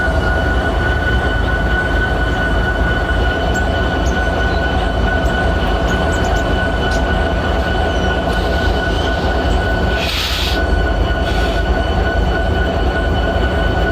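CSX 3164, a freight train, rolls past as a loud, steady, continuous rail rumble with a sustained tonal hum and brief metallic squeals near the end.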